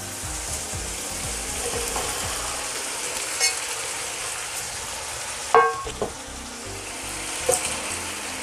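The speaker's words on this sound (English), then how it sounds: "Now you can add the cauliflower." Cauliflower sizzles and fries in a hot pan for vegetable fried rice, a steady close sizzle with a few sharp clicks and scrapes of stirring partway through, no talking.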